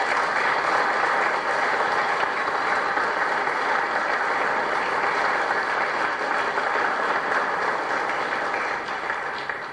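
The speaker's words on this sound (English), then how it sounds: "I'd just like you to give them another big round of applause there." A large crowd at a civic reception gives the Donegal GAA All-Ireland champion team another big round of applause, loud continuous clapping that fills the room steadily and fades slightly at the end.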